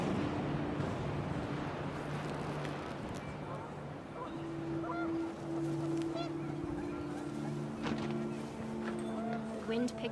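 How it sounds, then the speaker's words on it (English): Panicked geese honk in the video game What Remains of Edith Finch, a run of calls over a steady windy wash with voices or other sounds running underneath throughout. "The wind picked up, and panicked geese appeared and quickly went."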